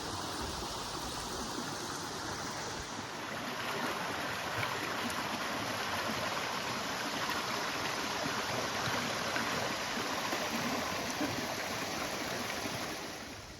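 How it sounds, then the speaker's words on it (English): The Waccamaw River pours steadily over a dam at Lake Waccamaw State Park, North Carolina, a dense continuous roar that swells slightly after the opening seconds and holds without a break. "Behind me, the Waccamaw River."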